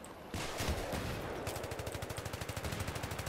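Automatic gunfire in the video game Battlefield 3 during a competitive match, starting with a loud burst and settling into a steady rapid rattle of shots, close and dense, with no talk over it.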